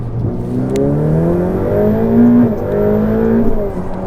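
A 720-horsepower Ferrari F8 Tributo's turbo engine revs up close under throttle, its tone climbing steadily and swelling in loudness with no talk over it.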